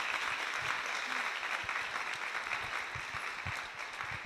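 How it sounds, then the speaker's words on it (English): A crowd applauds at a Mahasamadhi Day gathering in Bradford after a dance performance, a dense steady clapping that carries throughout at a moderate distance without talking. "give them another round of applause"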